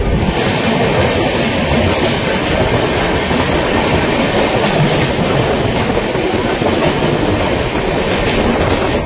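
Loud, continuous rumble and roar of the Darjeeling Mail passenger train running from Sealdah to New Jalpaiguri, with rhythmic rattling of wheels on track throughout.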